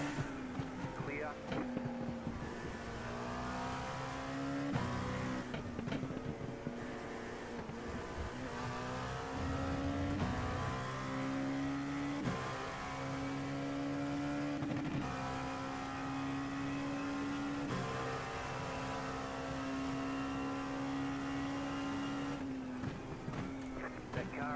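LMP2 prototype race car engines at Sebring in the iRacing sim, a sustained high engine drone with gear shifts and pitch changes as cars circulate, under a spotter's radio voice calling traffic.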